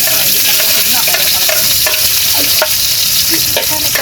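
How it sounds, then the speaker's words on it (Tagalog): Sautéing for sarciadong tilapia: loud, close sizzling of aromatics frying in a hot pan with a wood-fire stove, constant crackle broken by scraping stirs and clinks of a utensil against the pan. "Yan, igigisa na po tayo."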